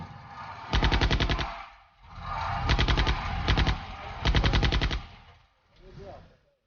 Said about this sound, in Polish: Niemal równolegle CKM kaprala Władysława Pawlaka kosi Niemców stojących na brzegu.